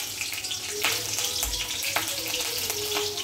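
Green chillies dropped into hot oil for pasta, a lively crackling sizzle with spitting pops and brief sharp spatters, close and loud, with no talking.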